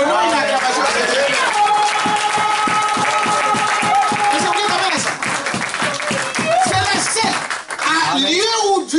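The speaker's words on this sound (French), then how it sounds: "Donnons une acclamation à Dieu" A church congregation claps and acclaims God, a loud, dense, rhythmic round of clapping mixed with voices and singing.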